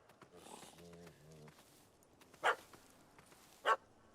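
A puppy in The Witcher 3 gives two sharp, separate yelps after a short stretch of low, muffled dog noises, fairly close and loud against a quiet background.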